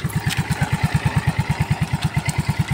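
A motorcycle engine idles after a crankshaft bearing overhaul, thumping in an even, rapid rhythm, close and steady with no talking.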